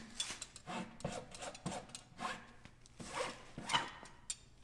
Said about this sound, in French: Pas besoin d'appuyer beaucoup sur cette lime-là parce que ça l'enlève quand même beaucoup.